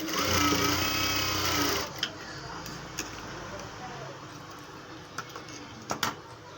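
A sewing machine stitches the shoulder seams of a prince-cut blouse. Its fast, steady whir runs loud for about two seconds and then stops, followed by quiet handling noise and faint clicks.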